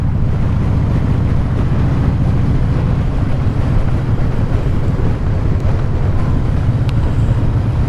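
A 2014 Harley-Davidson Breakout FXSB motorcycle downshifts on the road, its low engine rumble loud and close beneath heavy, constant wind buffeting.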